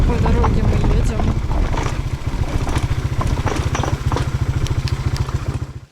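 Honda PCX scooter climbing a steep island road, its engine droning with a steady low pulsing rhythm up close, with wind and road noise over it.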